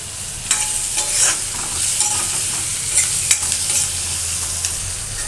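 Onions sautéing in a pan for chana, a steady sizzle and fry with spoon scrapes and stirring clinks throughout, close and fairly loud, no voices.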